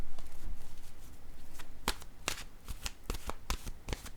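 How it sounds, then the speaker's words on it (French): An oracle card deck is shuffled and a card drawn, with a soft riffling rustle followed by a series of sharp, crisp card snaps, close and clear with no talking. "je vais piger une carte de mon oracle de l'âme intuitive"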